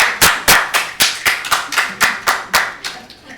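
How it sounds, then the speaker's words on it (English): Audience at a city council meeting giving a rhythmic clap of support, about a dozen sharp, evenly spaced claps, loud and close, gradually tapering off. "Dang, Brendan, that was a strong clap of support."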